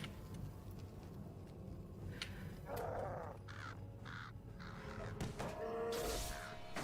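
Crows caw in several short bursts from the Murder of Crows skill in the game LOTRO, scattered over a low ambient game background with no talk.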